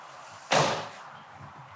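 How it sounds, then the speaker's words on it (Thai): The door of a BMW 323i E46 sedan shuts with a single solid thump, a loud, close slam that fades quickly into quiet surroundings. "เสียงประตูแน่นๆนะครับผม"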